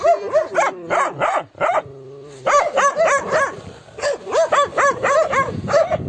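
Dogs bark aggressively at passing children and adults, loud and close, in rapid repeated volleys with a brief pause before more barking resumes.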